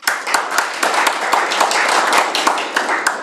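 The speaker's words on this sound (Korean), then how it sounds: "우리 성창모 박사님을 박수로 모시도록 하겠습니다" An audience at a forum commemorating the 600th anniversary of Jiphyeonjeon applauds to welcome a speaker to the stage, with brisk, loud, close clapping and sharp individual claps throughout.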